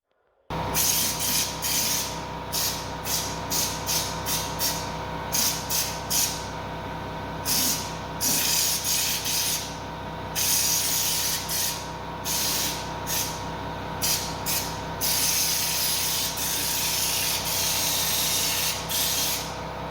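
Spray gun hisses steadily while applying bedliner coating to the floor of a Vauxhall Nova rally car shell, with brief pauses between passes over a constant background hum.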